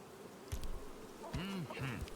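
Bees buzzing around a honey hive in the video game Gord, a few short wavering buzzes drifting past close by over a soft ambient bed.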